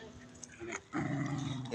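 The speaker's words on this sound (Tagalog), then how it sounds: "Yung aso, nagagalit sa isang aso." A dog barks and growls angrily at another dog, a short burst of snarling yelps ending in a louder sustained growl-bark, fairly close but recorded at low level.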